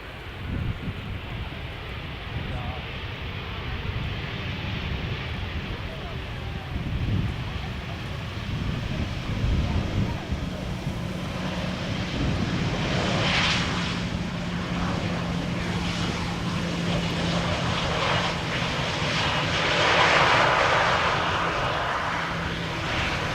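Airliners arriving and departing at Amsterdam Schiphol Airport, a continuous distant jet roar with steady engine hum, swelling gradually and peaking toward the end, with some wind noise over the microphone.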